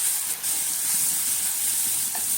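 Jackfruit curry masala sautéing in a pan with garam masala, fennel and coriander powders, giving a steady, close broadband sizzle and hiss throughout with no talking.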